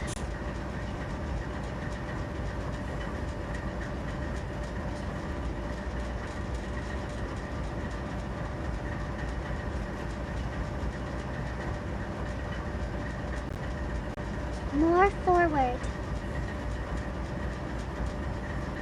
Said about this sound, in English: The locomotives are roaring, and the cars are rumbling.